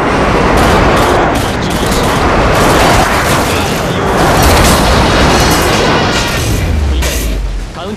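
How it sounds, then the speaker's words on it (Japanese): Heavy, continuous booming explosions from a friendly airstrike in Call of Duty: Modern Warfare 2 team deathmatch on the Quarry map, loud and dense rumbling blasts sustained throughout with gunfire mixed in. "友軍の空爆機が接近中。"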